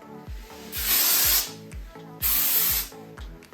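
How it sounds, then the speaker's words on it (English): Two long hissing bursts from an aerosol texture spray can spritzing onto hair ends, close and loud, over a quiet rhythmic thumping beat. "spray a little bit of texture spray at the ends as well"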